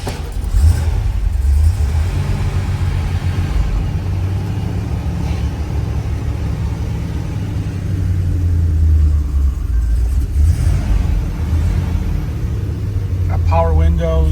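A 1980 Chevrolet Corvette with the L-48 engine and 27,406 original miles runs with a steady, deep low rumble throughout, with a brief voice near the end.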